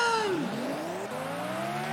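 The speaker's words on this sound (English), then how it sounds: "the red lights come on, the engine revs rise" Formula 1 engines from the Grand Prix 2 video game rising in pitch at the start of the 1994 Brazilian Grand Prix, a loud, close, harmonic whine that sweeps down, then climbs steadily as several cars rev together.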